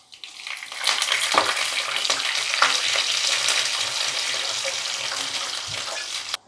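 Water is poured into a hot tempering of mustard seeds, chillies and curry leaves for dhokla, setting off a loud, close, sustained hissing sizzle that builds after a soft start and runs steadily until cut off abruptly.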